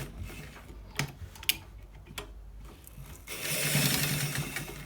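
A sewing machine top-stitches a shawl collar in quick ticking bursts between short pauses, then runs in a denser, louder whir toward the end. No one speaks.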